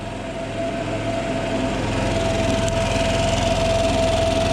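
A 2007 Yamaha X-Max 125 scooter engine runs at a steady idle, a continuous close mechanical drone with a fine rapid pulse and a constant whine, loud and unbroken with no one talking.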